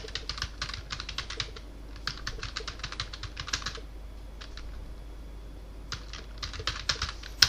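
Quick bursts of typing on a computer keyboard, close and moderately quiet, clustered keystroke runs separated by short pauses, with no talking.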